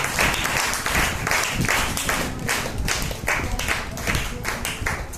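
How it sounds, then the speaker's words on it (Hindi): An audience of women at a spiritual education camp closing ceremony in Ponnurmalai claps loudly and steadily for about five seconds. The dense, continuous applause has no pauses and no speech over it. "ताली बजा करके बस सम्मान कीजिए"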